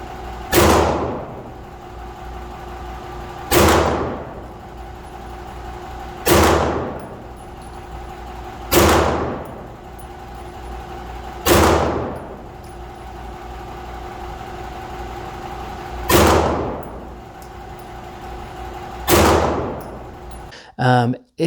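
Gunfire from a striker-fired pistol emptying its first magazine: seven loud, sharp shots spaced evenly a couple of seconds apart, each ringing out briefly over a steady low background hum.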